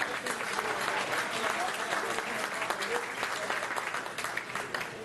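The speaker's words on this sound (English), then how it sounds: "let's give him a round of applause" Audience at a Knights of Columbus Council 750 event giving a round of applause, a dense, steady wash of clapping from many hands, close and sustained throughout with some voices mixed in.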